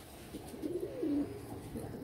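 A pigeon coos softly and low, a short rolling call over a quiet background, with three pigeons held in hand.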